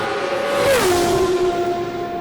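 A 1997 Benetton B197 Formula 1 car at Road America screams past with a high-pitched engine note that drops sharply in pitch as it passes close by.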